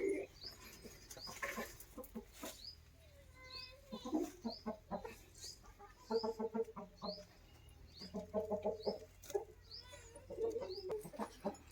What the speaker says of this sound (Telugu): ఇప్పుడైతే కొన్ని కోళ్ళు అయితే గుడ్లు అయితే పెడుతున్నాయి